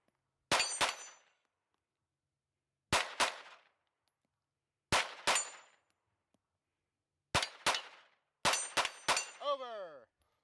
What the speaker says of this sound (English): moves forward to the 15-yard line to rotate the spinner again with handgun